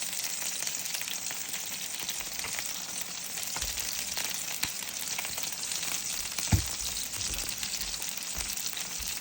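Salmon fish cooking in a pan on the stove, giving a steady, continuous sizzle and frying hiss with a few soft clicks, heard alone without talk.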